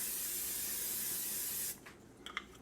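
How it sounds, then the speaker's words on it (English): A can of Pam cooking spray hisses onto a pan in a single loud, continuous burst that cuts off sharply after under two seconds, followed by a few faint clicks and taps. "The next step is spraying a pan with some Pam."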